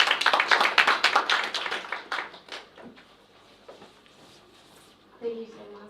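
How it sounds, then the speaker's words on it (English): Audience clapping at a county principals' conference in Migori, a loud round of claps that tapers off over about three seconds, followed by quiet room tone and a voice. "Let's clap for this strong lady."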